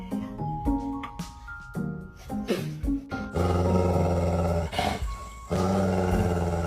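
A dog growls and grumbles low and rough after a kiss on the head, heard over busy music, with the growl rising and falling across several seconds.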